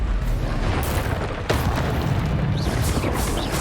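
Confringo blasting spell in Hogwarts Legacy, a loud booming explosion with a dense rumbling wash and a sharp burst partway through, up close.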